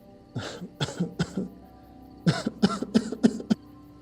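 A person coughs deliberately and forcefully in short bursts as a breathing exercise, three coughs, a pause, then a rapid run of five or six more, close and loud.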